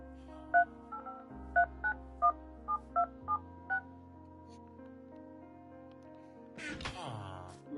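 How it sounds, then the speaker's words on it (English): Telephone keypad tones punch in a phone number, a run of about eight sharp evenly spaced beeps over a faint steady hum, then a brief rustling clatter. "enter your area code and phone number."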